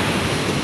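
Large sea waves crash against a small wooden outrigger boat crossing rough open water, a dense, roaring wash of spray and surf that stays loud and continuous throughout.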